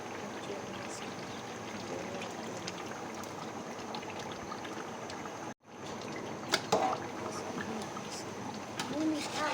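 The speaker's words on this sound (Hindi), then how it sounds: "इसमें थोड़ा सा और पानी ऐड करी, चिकन गलेगा जी।" Water pours into a large pot of chicken korma, a steady, soft splashing stream lasting several seconds with a brief break midway, near and moderately quiet, with a faint voice underneath.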